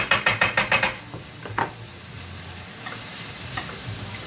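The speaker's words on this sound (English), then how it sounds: "I'll add these tomatoes to it just to fry it through a little bit" Tomatoes hit a pan of frying vegetables for a pie filling, with a quick run of sharp rhythmic utensil taps first, then a steady soft sizzle and occasional scrapes.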